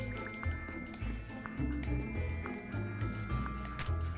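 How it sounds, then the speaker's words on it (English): Water spat out in the Manual Samuel video game, heard as soft wet squishy drips and splatters, faint and repeated over low game background. "I'm gonna spit the water on it."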